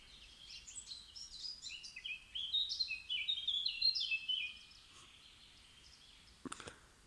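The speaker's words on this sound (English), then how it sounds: "birds are singing" Outdoor birds sing a run of bright, high chirps and warbling trills that rise in the middle and then fade, with a faint background and a short sharp knock near the end.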